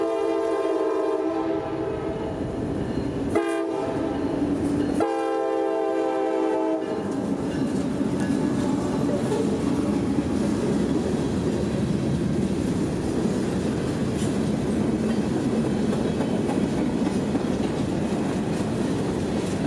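Freight train L781 led by a GP38-3 and a Tier 4 GEVO diesel locomotive, with a loud horn sounding in several blasts, then the rumble and clatter of cars rolling steadily past close by.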